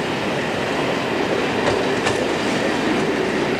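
A British Rail electric train pulls away from a platform in 1981, a broad continuous rumble and hiss of wheels and carriages with a couple of faint clanks partway through.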